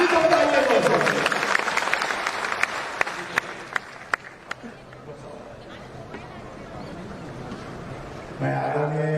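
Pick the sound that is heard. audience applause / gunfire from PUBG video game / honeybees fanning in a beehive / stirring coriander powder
audience applause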